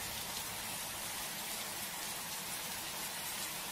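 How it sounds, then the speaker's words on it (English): Steady, even hiss of cartoon rain from a Pocoyo weather and seasons playset app, falling continuously without pause and with no voices over it. "The leaves are falling, and so is the rain."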